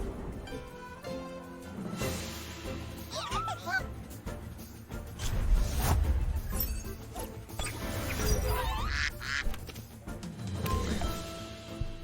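A creature from the video game Temtem quacks in short, squeaky calls that rise twice out of busy game music and effects, while a voice talks faintly underneath.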